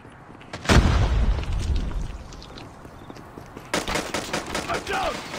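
A frag grenade explodes in a first-person shooter, a loud boom near the start followed by a stretch of rumble, then a burst of rapid gunfire later in the clip.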